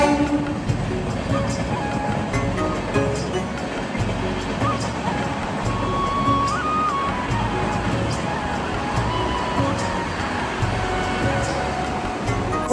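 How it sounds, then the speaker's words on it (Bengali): A passenger train runs steadily near Mankundu in West Bengal, a continuous rumble of wheels and carriages with faint rhythmic clatter, the sound even and close throughout. "ট্রেন এখন মানকুণ্ডুতে"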